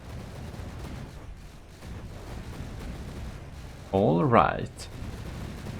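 Cram cannons boom in a From the Depths naval battle between the Gimle and UCS Resolute, a loud rumbling salvo about two thirds through over a continuous battle din, with someone speaking briefly.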